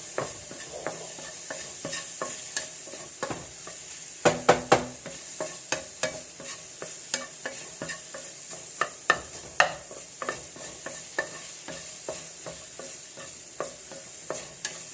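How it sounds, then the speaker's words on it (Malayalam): Overripe banana frying in a pan and being stirred repeatedly, with frequent spoon scrapes and taps, some clustered together, over a constant soft sizzle. "അത് ഞാൻ പാലിലേക്ക് ഇട്ട് കൊടുക്കുവാണ് നല്ലപോലെ ഒന്ന് ഫ്രൈ ആക്കി എടുക്കണം"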